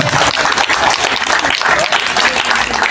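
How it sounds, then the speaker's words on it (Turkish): Loud audience applause for veterans at a memorial birthday event for a fallen soldier, a dense, full roar of clapping that holds steady and close for the whole stretch. "bütün gazilerimizi gürültülü alkışlarla alkışlayın"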